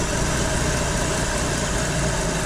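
BMW V12 engine fitted in a 1930 Model A coupe with a rebuilt Rochester 2G carburetor, idling steadily up close with a dense, even low rumble and constant vibration.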